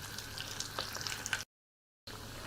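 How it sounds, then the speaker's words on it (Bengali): Traditional Chittagong-style meat kebabs fry in a pan with a soft, crackling sizzle and scattered pops, cut off abruptly by a short silence before the frying resumes. "কোয়াবগুলো আমার খুব সুন্দরভাবে ভাজা হয়ে গেছে"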